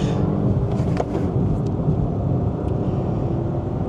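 A 2024 Suzuki Swift Hybrid with a manual gearbox launching hard from a standstill with wheel tramp, its small engine giving a steady loud low rumble throughout, heard from inside the cabin.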